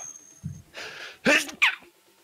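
A person sneezes once at close range, a short sharp burst after a quick breath in, followed by a smaller second exhale-like burst, in a quiet indoor room.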